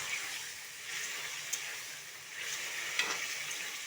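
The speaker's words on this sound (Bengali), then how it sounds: "ছোলা আলুটাকে আমি ভালোভাবে একটু কষিয়ে নেব।" Boiled chickpeas and fried potatoes with spices are stir-fried in a pan, giving a steady close sizzle broken by two sharp utensil scrapes against the metal.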